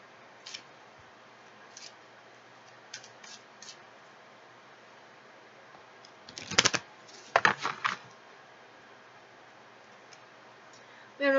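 Tarot cards shuffled and snapped together, sparse light ticks at first, then a brief cluster of sharp riffling slaps and flicks near the middle, with a louder burst of handling at the end.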